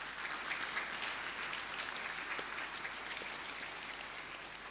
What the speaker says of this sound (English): And I want you to give them a round of applause for what they've been doing.